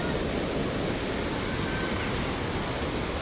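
River stream flowing below a dam, a steady, fairly faint rushing wash of water heard continuously without voices.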